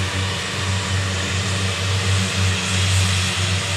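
A Jacobsen HR9016 Turbo Diesel 4WD mower's engine runs steadily nearby, a continuous low diesel drone with a broadband roar that holds even throughout.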